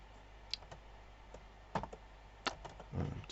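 Scattered keyboard clicks and taps on a computer keyboard, a few isolated keystrokes followed by a short burst, close and quiet over a faint room hum.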